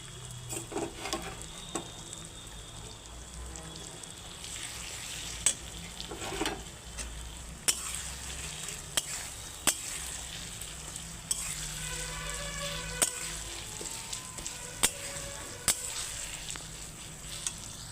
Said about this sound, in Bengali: এখন আমি এই যে আদা রসুন বাটা একসঙ্গে দিয়ে দিচ্ছি